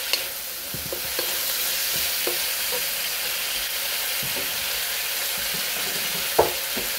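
Pork and asparagus sauteing in a pan, with a constant loud sizzle and a few scattered knocks and scrapes from stirring, one sharper clack near the end, and no talking.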